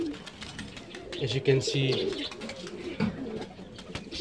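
Pigeons of several colours coo softly in a loft, with low repeated throaty calls and scattered rustling while someone talks over them.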